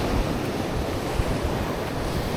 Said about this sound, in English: There's unpredictable waves today.